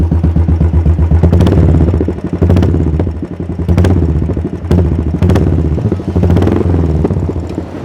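A Royal Enfield Classic 500 single-cylinder long-stroke motorcycle engine, modified in Sportster style, revs up repeatedly, a deep thumping exhaust rising and falling in short bursts, loud and close.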